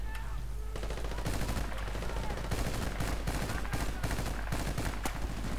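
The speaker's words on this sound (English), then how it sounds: "Oh, that gun is not doing any damage." Rapid bursts of automatic gunfire in a first-person shooter match on the Erica Harbor map, sharp repeated shots crackling in clusters at close range over a steady low drone.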